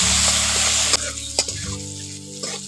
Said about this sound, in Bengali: ওগুলো দিয়ে ভালো করে টমেটো আর কাঁচা লঙ্কাটাকে কষে নিচ্ছি।